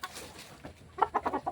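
Breeding hens of the Kelso, Walton Blue and Walton Black lines cluck close by, a few soft calls followed by a quick run of four or five louder clucks.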